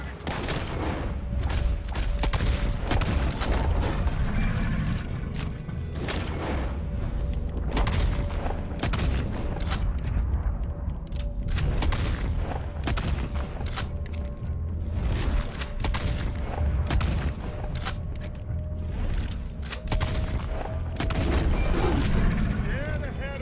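Dense, loud gunfire in Red Dead Redemption 2 cracks out in rapid volleys of overlapping shots with booming echoes, sustained throughout amid game noise and occasional voices.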